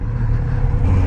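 A 2021 Kawasaki Z900RS motorcycle engine drones steadily and close, a loud low rumble held for about a second with no break.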